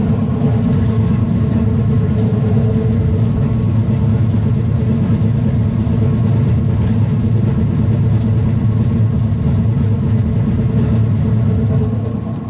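A low speed granulator with a 4 mm screen grinds soft material in a loud, steady low rumble and drone that holds constant, tapering slightly at the very end.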